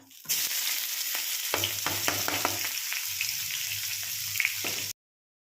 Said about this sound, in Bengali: পেঁয়াজটা বেশ সুন্দর করে ভাজা ভাজা হয়ে গেছে